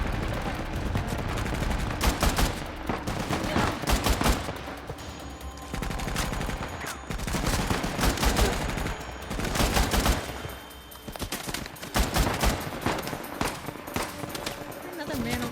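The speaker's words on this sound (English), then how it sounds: "Who is shooting at me?" Rapid, repeated gunfire from the Uncharted video game, loud bursts and volleys clustered through the stretch with brief lulls, while a person talks over the shooting.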